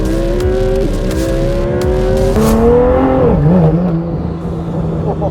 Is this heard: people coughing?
no